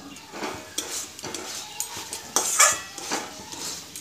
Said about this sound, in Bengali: একটু ভালো করে নেড়ে নিতে হবে